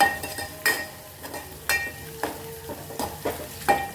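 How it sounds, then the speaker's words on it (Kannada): Lengthwise-sliced green chilli fries in a pan with a steady sizzle, while a spoon stirs and scrapes it, giving repeated clinks and knocks against the metal at an uneven pace. "ಮತ್ತು ಹಸಿ ವಾಸ ಹೋಗುತ್ತಾನ ಚೆನ್ನಾಗಿ ಹುರಿರಿ"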